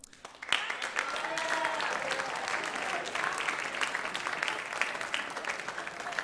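Audience clapping at a school awards ceremony, steady applause after a sharp onset that runs throughout, with a voice speaking briefly over it.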